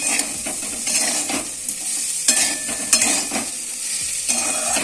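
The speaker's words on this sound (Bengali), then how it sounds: "একটু ভেজে নিয়ে তারপর পোস্ত দেবো" Potatoes with salt and two slit green chillies fry in a pan, a loud close sizzle punctuated by repeated scraping stirs at an uneven rhythm, with no one speaking.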